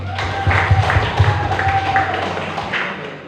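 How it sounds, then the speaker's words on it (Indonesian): Applause from a village youth organization audience at an informal community gathering, a steady dense patter of clapping sustained for about three seconds with a faint crowd murmur underneath. "Beri tepuk tangan untuk kita semua."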